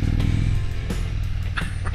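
A 2021 Indian Roadmaster Elite motorcycle pulls away as its engine gets a little gas and the clutch is eased out, giving a loud, steady low rumble that continues throughout without talk.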